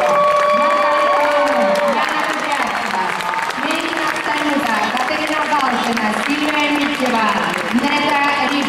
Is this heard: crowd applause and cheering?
yes